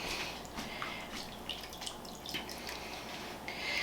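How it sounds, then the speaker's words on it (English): Taco soup ladled into a freezer container, soft wet spills and drips from the ladle, faint and close, repeating unevenly against a low steady background hiss. "just ladle the soup into your freezer container."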